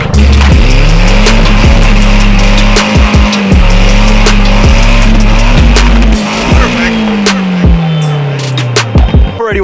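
A car doing a burnout roars with a revving engine and screeching tire squeal, loud and close, the engine note rising and falling before tapering into scattered clicks and softer noise.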